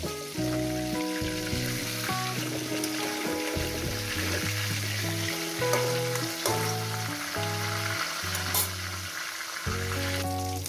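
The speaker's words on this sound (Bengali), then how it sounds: "মাছের মাথাটা আমার ভাজা হয়ে গেছে" A fish head frying in hot oil for a spicy chochchori makes a loud, continuous sizzle and bubbling crackle throughout, with music playing over it and no talk.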